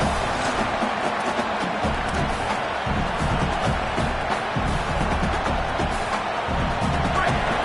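Dense stadium crowd roar at a USC versus Wisconsin college football game, a steady, loud, continuous wash of many voices with no letup across the whole stretch.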